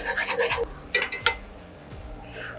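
Salt, pepper and garlic being worked into ground meat in a pan, heard as a burst of close scraping and rubbing, then a few sharp utensil scrapes that fade to quiet.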